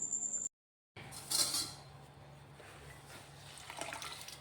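Water splashes and sizzles briefly on a hot clothes iron after a short silence, followed by a faint wet hiss and light clinks in a quiet room.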